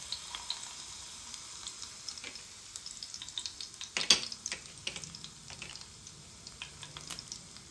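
Garlic dropped into hot peanut oil for a country cucumber pickle crackles in scattered small pops and spits, quiet and close, with one sharper burst midway and no talking.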